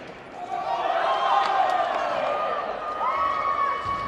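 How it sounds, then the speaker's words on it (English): Crowd calls and cheering ring out at a veterans' roller hockey world championship gold medal game between Slovakia and the USA, a steady, fairly loud arena murmur with rising shouts throughout. "calls from the crowd"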